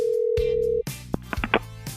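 A telephone sounds for a call-in, a steady tone breaking off into a clatter of line clicks and short electronic bleeps, loud and close with no talk.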